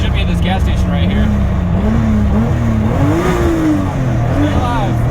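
A drift car's engine is held at steady high RPM in fourth gear on a roadside drive, a loud continuous drone with the pitch rising and falling slightly, while someone talks over it.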